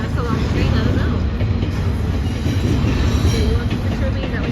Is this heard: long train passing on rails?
yes